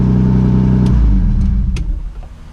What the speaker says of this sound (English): Idle's sitting at like 1200 right now, when it should be right around like 700 or 800